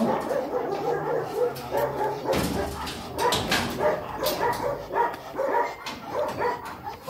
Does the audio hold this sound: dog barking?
yes